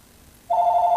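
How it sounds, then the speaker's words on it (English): A phone rings with a steady electronic tone that starts abruptly after a quiet moment and carries on alone, fairly loud and close. "Oh, sorry about my phone, by the way."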